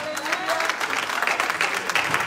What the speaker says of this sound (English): Clap your hands up to that.